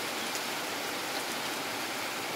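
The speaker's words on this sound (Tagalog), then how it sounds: "Ulan." Steady rain falling, a dense even hiss of drops on surfaces with no pauses.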